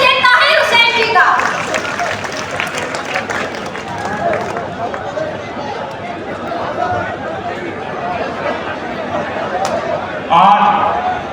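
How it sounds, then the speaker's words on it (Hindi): Crowd applause and cheering greeting a speaker at an INLD Martyrs' Day youth rally in Narwana, a broad steady wash of clapping and voices lasting throughout, swelling slightly near the end. "एक बार जोरदार तालियों से स्वागत कीजिए ताहिर हुसैन जी का"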